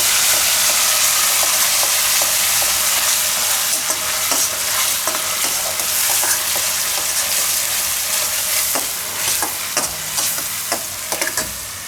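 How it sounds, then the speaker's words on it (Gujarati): Onion paste frying in hot oil with hing and coriander-cumin powder, a steady bright sizzle broken by repeated scrapes and clicks of a spoon stirring in a pan. "આને થોડીક વાર પકાવશું તેલમાં"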